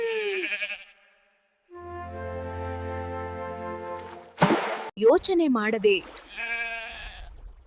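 A cartoon goat bleats in a 2D animated kids' story, a sustained wavering cry near a well, with narration and character voices before and after it.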